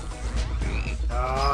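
Frog croaks from the video game BattleBlock Theater, a quick run of close, loud rasping calls over a low game hum with no voices.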